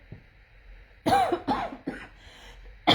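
A series of several harsh, close coughs in quick succession, then a pause and another cough, with a low background hum.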